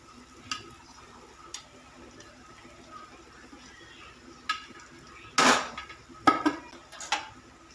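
Chapati pieces tumble into a pan for crisp phodnichi poli, giving a few scattered clatters and scrapes of stirring against the pan over a quiet kitchen background.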